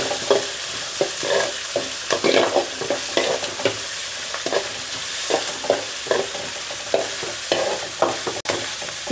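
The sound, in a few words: onions and green chillies frying and being stirred in a pan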